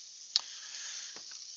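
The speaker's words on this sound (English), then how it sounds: "because I have this crazy induction top, it's actually already hot and it's sizzling." Celery sautés on a hot induction cooktop, giving a faint, steady hiss of sizzling with a few soft ticks and pops on top.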